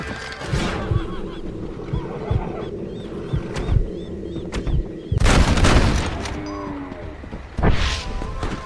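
Gunfire in the Western video game Red Dead Redemption, several loud bursts over a busy outdoor game scene with geese honking and shouting voices.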